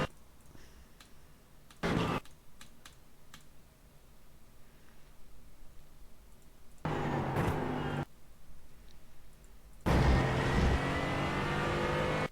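A GT4 race car in the iRacing sim laps Road America, its engine droning and revving through gear changes, with loud surges of acceleration around the middle and near the end of the lap.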